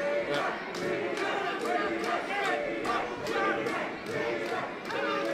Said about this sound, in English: Yeah, really getting a very big response from the crowd.